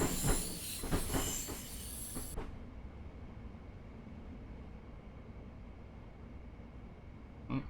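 Class 365 electric multiple unit slowing into a platform in Train Simulator 2020: a loud rolling rumble with a few rhythmic wheel clicks for about two seconds, then an abrupt drop to a steady low hum and one brief clack near the end, with no talking.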